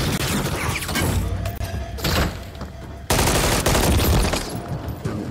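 Gunfire in Modern Warfare 3, loud rapid automatic bursts with heavy thuds, sounding near and dense across several sustained stretches with brief pauses between them.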